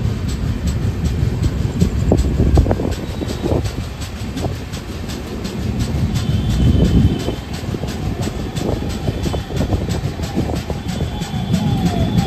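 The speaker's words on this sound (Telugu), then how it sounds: "కేఎస్ఆర్ బెంగళూరులో స్టార్ట్ అయిందండి బండి" A train pulling out of KSR Bengaluru station and rolling along, heard from on board as a loud, steady low rumble with rhythmic wheel clatter and creaking throughout, and no voices.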